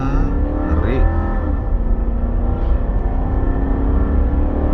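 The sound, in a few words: Toyota Land Cruiser Cygnus accelerating at full throttle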